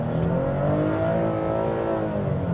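A 2026 Nissan Frontier Pro-4X engine revs hard through manual shifts, a loud continuous drone climbing and falling in pitch as gears change, heard from inside the cabin without talk.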